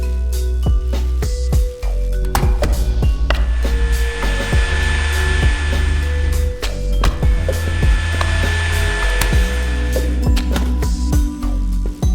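Drill pushing a magnet in the puzzle game Mind Over Magnet: a steady, loud mechanical whirring hum runs throughout, dotted with sharp clicks and taps.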